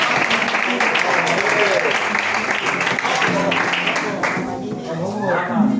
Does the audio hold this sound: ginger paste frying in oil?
no